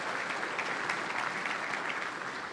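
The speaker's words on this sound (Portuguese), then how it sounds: "Uma salva de palmas a todos." An audience applauds the event sponsors at the opening of the Troféu Transparência 2019 award ceremony, a steady, even wash of many hands clapping throughout, moderately distant and quite soft, with no talk over it.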